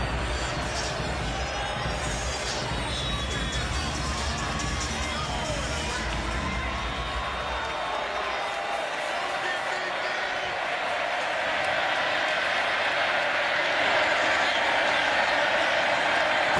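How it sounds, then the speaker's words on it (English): A stadium crowd roars through a college football game between Kansas State and Baylor at McLean Stadium, a steady wash of cheering and babble that never lets up, with a commentator talking over it. "Crowd here at McLean Stadium standing."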